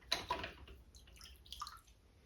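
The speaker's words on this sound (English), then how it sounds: "we're going to rinse our brushes out" Paint brushes are swished and rinsed in a small container of water, giving a few faint, close splashes and trickling drips with quiet clinks, spread unevenly over a couple of seconds.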